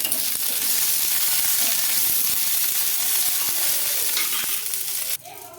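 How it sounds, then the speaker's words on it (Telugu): Garlic, mint and green chillies fry in a pan for a peanut chutney, sizzling loudly and close with a constant crackling hiss and faint stirring scrapes, then cutting off abruptly near the end. "కొంచెం పుదీనా పచ్చిమిర్చి అయితే బాగా ఫ్రై అయినాయండి"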